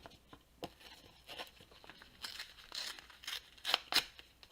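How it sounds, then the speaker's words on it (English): Paper is torn for a scrapbook page in several ripping strokes, close and crisp, with rustling and crinkling between tears and a louder final pair of rips. "And I'm going to tear this."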